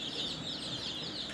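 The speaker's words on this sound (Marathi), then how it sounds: "प्युअर गावरान कोंबडीची पिल्ली उपलब्ध आहे" Native village chickens and their chicks cluck softly on a farm in a village near a highway, a faint, steady stream of low chatter and peeping with no voices over it.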